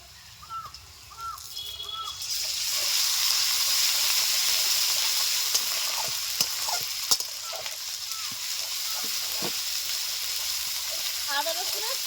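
Ginger garlic paste hits frying onions in a pan for Bengali chicken curry, bursting into a loud sustained sizzle with scattered clinks of stirring; birds chirp faintly in the background.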